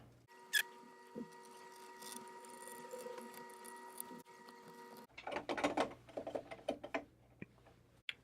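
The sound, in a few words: screws being screwed back into a mixer faceplate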